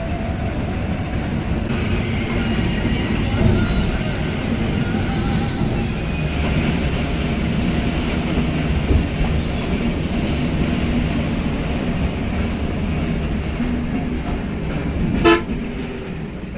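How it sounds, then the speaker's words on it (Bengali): A train rumbles steadily past for a long stretch with a constant low roar; a brief horn toot sounds near the end. "কি ট্রেন কে জানে। এক্ষুনি বলে দিচ্ছি। দেখো তো কি ট্রেন।"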